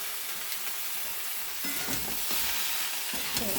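Chopped tomatoes drop into spices frying in a pan, bringing a continuous close sizzle with stirring scrapes that grows a little louder once they go in.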